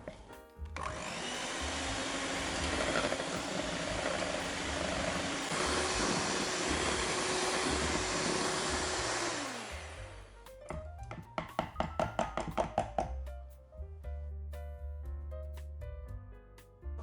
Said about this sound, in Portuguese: Agora eu vou bater 250 gramas de creme de leite fresco.